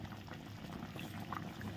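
Rohu fish simmering in white rezala gravy in a pan, a gentle unbroken bubbling with occasional small pops, heard up close at low volume with no talking.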